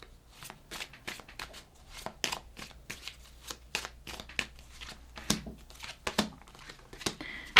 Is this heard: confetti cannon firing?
no